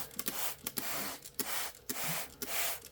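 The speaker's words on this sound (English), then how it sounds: "I'm going to make sure it's nice and damp with the little spray bottle here" Several short hissing sprays of water from a nearby small spray bottle dampening a Grammostola pulchra tarantula enclosure, repeating in a steady rhythm with brief pauses between bursts.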